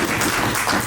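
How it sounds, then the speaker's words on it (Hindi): Dense burst of audience applause at a Hindi poetry society's annual celebration, loud and continuous with many hands clapping at once, brief and without talk. "जोरदार तालियां"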